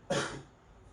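A patient gives a single short, sharp cough during a breathing exercise, close and alone in a quiet room.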